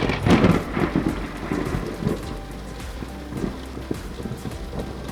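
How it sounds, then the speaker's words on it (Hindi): Steady rain falls on the streets of Agra, with thunder rolling through the downpour and several louder rumbles and cracks standing out against the constant hiss of the rain. "बारिश की बूंदें आगरा की सड़कों पर गिर रही थी"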